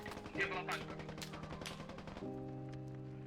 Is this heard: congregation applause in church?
no